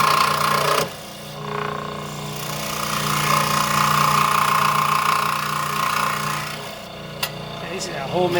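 Maglev scroll saw cutting through wood, a steady buzzing drone with a sawing hum that stops briefly near the start and resumes, close and moderately loud.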